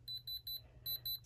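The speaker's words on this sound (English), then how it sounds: "the only time it beeps is when it is actually on a diamond" Electronic diamond tester held on a diamond engagement ring gives a run of short high beeps in an even rhythm, with a brief pause midway, faint and alone.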